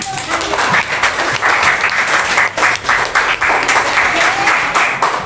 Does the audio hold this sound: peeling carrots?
no